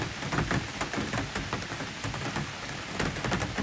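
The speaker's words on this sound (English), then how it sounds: "It's been raining." Steady rain falling and pattering on surfaces nearby in the Pennsylvania woods during a morning bear hunt, a continuous hiss with scattered drips and no voices.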